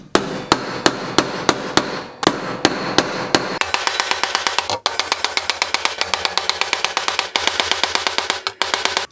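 Sharp metallic hammer blows on sheet metal for a motorcycle gas tank ring out in rapid, regular succession, close and loud, with a few pauses between bursts of striking.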